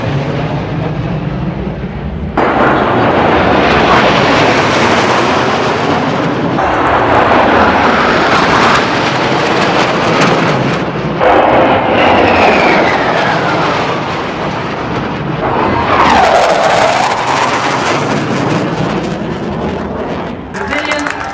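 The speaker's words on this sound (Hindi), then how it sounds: "हवाई मार्ग से गर्जना करते हुए फाइटर विमान दिखने शुरू हो गए।" Fighter jets roar overhead during the Republic Day parade at Kartavya Path in Delhi, a loud sustained engine rumble that swells with passing sweeps, joined partway by a rising whine, with crowd noise and voices underneath.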